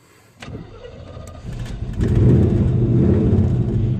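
A 1984 GMC Sierra Classic pickup engine cranks and fires up, then settles into a loud, close, rumbling idle that holds steady, with no talk.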